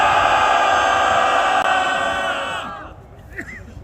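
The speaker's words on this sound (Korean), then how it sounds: "전방을 향해 함성 시작!" A large crowd of doctors protesting outside the National Assembly in Korea lets out a loud, sustained collective shout for about three seconds, then fades out into scattered voices.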